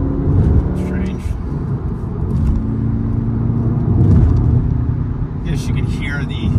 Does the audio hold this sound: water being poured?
no